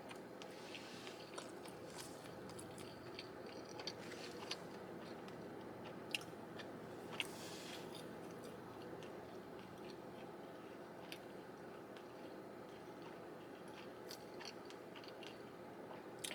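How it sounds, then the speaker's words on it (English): Close, steady chewing and soft crunching of Costco food such as a hot dog, chicken bake and pepperoni pizza, with occasional wet squishes and bites, and no talking. "Do you guys think I chew too much?"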